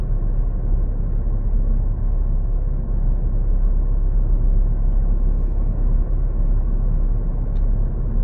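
A Ford Fiesta with a 5-speed manual cruising in fifth, its top gear, giving a steady low engine and road drone inside the cabin, constant and unbroken with no talk.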